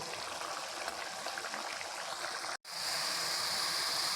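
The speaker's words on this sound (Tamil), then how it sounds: "தண்ணி சேர்த்து நல்லா கொதிக்க விட போகிறோம்" A steady, bubbling hiss of water boiling in a pot of mushroom gravy, close by, with a brief cut to silence partway through before the simmering resumes.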